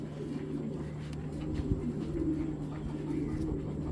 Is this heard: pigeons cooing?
yes